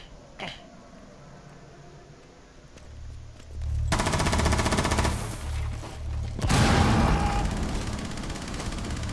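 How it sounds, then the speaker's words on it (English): Grenade blasts in Rainbow Six Siege on the Consulate map: a quiet stretch gives way to a loud, sustained burst of rumbling detonation, then a second heavy explosion hits a few seconds later and rolls on. "They grenaded me."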